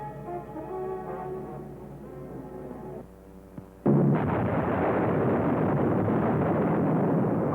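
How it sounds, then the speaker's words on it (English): Wartime bombing raids on undefended civilian areas sound in archival documentary footage, where a low droning tone gives way to a sudden loud blast and a sustained, heavy rumbling roar. "Unopposed bombing raids sent defenseless civilians fleeing in stark terror."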